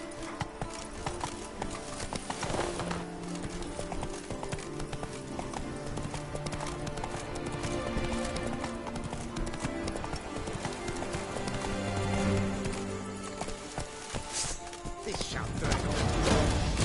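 Roach, the horse in The Witcher 3: Blood and Wine, gallops with a continuous rhythmic clip-clop of hooves, steady and fairly close, under a layered background of other game sounds.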